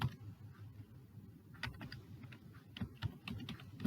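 Someone types a folder name on a computer keyboard, producing a scattered burst of faint, quick key clicks over a low background hum, with no speech.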